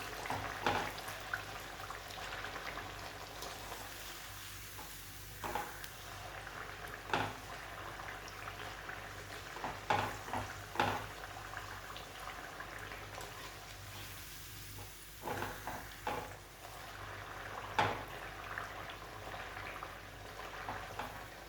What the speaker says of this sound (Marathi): अशी लालसर होईपर्यंत त्याला तळून घ्यायचं